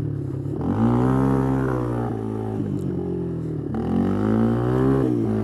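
Yamaha Moto 4 ATV engine revving on wet grass, a loud, close, steady mid-pitched drone that rises and falls in pitch through several throttle swells, with no talking.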